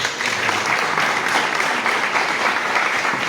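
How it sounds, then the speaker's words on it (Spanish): Audience at a history congress applauds the mayor, a continuous even wash of clapping from a large room that holds steady for the whole stretch, with no talk over it. "Un aplauso para el señor alcalde, por favor."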